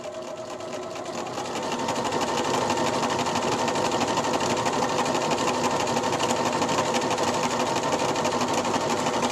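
A sewing machine stitches a straight 5/8 inch seam, starting quietly and then settling into a steady, rapid mechanical whirring hum of needle strokes that runs evenly for the rest of the clip.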